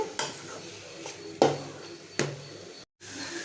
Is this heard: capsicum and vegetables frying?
yes